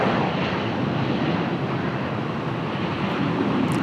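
A jet airliner arriving at a busy airport gives off a loud, continuous broadband rumble and rush, close and steady throughout, with wind buffeting the microphone and no voices.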